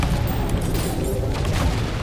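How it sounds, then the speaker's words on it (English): Explosions in the video game ULTRAKILL form a dense, loud run of booming blasts with a rumbling, gunfire-like texture that persists through the whole stretch without spoken voices. "Oh wait, actually I do have red explosions"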